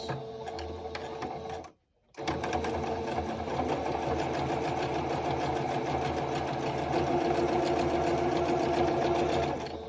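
A sewing machine runs a straight stitch with a back stitch along the seam of a cloth face mask, steady and close, stopping briefly near the start before resuming in a continuous whirring run.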